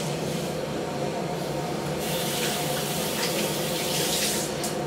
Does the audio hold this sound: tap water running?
yes